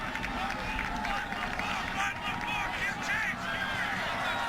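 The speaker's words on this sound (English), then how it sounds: "Crowd letting the Wildcats know about it too" A college football stadium crowd roars steadily at a K-State versus Baylor game, a loud continuous wash of cheering and babble with an announcer's voice running over it.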